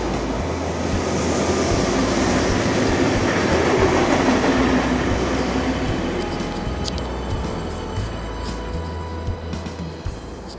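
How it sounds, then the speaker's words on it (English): Trains at a station platform, a loud rolling rumble with clickety-clack that swells and then fades as they pass, a few sharp clanks near the end. "Couple of trains here."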